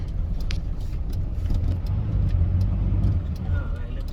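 A Hino truck engine runs with a steady, close, low rumble that swells slightly partway through, and a person speaks over it.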